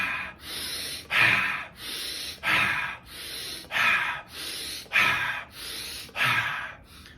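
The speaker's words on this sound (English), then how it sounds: "you would take 15 to 20 belly breaths" Deep belly breaths in a rhythmic breathing exercise: about nine paired inhales and exhales through the nose, close and loud, each forceful breath about a second long with a regular tempo.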